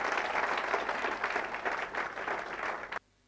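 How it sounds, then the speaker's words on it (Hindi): An audience in a meeting hall claps vigorously in a dense, sustained burst of applause that holds steady for about three seconds and then cuts off abruptly to near silence. "तो वैसे महान हस्ती के श्री केशव राव जी के लिए एक बार जबरदस्त ताली होना चाहिए"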